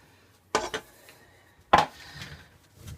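Biscuit dough pieces set down on a baking tray, two distinct clattering knocks about a second apart, close and fairly loud, with quiet handling between.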